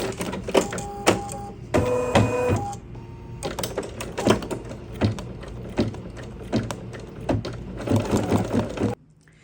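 Embroidery machine stitching snap placement lines on a snack bag in the hoop, a steady run of rapid mechanical stitch clatter and whirring motor with clicks and pauses until it stops near the end.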